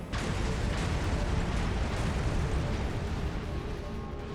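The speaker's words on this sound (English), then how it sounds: "I love how every explosion in this game just ruins the frames" A big explosion in the video game Armored Core VI, a broad rumbling blast that starts abruptly and stays loud before slowly easing off.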